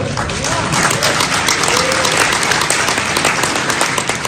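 An audience at a leadership conference claps in a dense, steady burst of applause that holds at an even loudness throughout, with a faint murmur of voices underneath.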